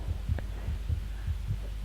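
A steady heartbeat in the video game Among the Sleep thumps low and soft in a regular double-beat rhythm, repeating over a faint background hum.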